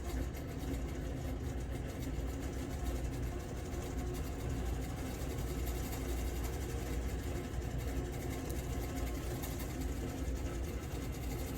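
A home sewing machine runs steadily while stitching a New York Beauty quilt block with a quarter-inch seam allowance, giving a continuous fast mechanical whir at fairly low level, with no talking.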